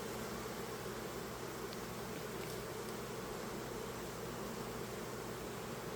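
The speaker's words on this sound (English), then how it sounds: "There's a lot of bees in here." Honey bees hum in a dense, steady drone inside an opened hive during an inspection, a faint unbroken buzz with no talking.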